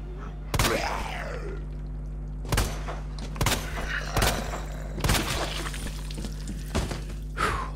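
Gunshots in Resident Evil 2: about six sharp, loud handgun shots spread unevenly over a low steady hum of game ambience, each cracking out and fading quickly.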